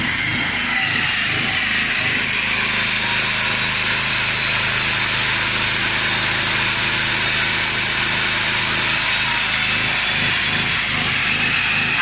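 A steady, loud whine of a cut-off saw grinding continuously, powered by a TAKARA TMV-4000 3 kW gasohol generator whose engine hum drones underneath, unbroken for the whole stretch.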